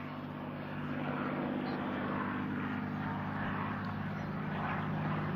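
Big Beautiful Doll, a Mustang warplane flown by Ed Shipley at the 1997 Sussex Airshow, drones steadily with a propeller engine roar through a hesitation roll, heard from a distance under a voice commentator.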